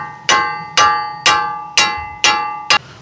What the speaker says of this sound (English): Oh, I need a hammer.